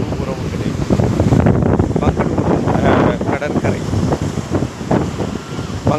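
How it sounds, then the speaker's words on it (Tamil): Roaring sea waves crash on Mangalore beach with a dense, loud, continuous surge and heavy wind buffeting close to the microphone. "ஆர்ப்பரிக்கும் கடலினுடைய அலைகளுடைய சப்தம்"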